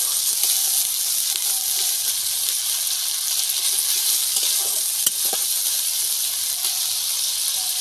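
Onions frying in a pan for a prawn-in-green-coconut dish in a village kitchen, a steady close hiss and sizzle with occasional light stirring scrapes and pops, no voices.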